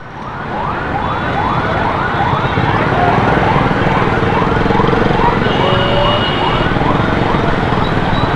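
A loud wailing fire engine siren sweeps up and down in rapid repeating cycles, close and continuous over steady traffic rumble in Karachi.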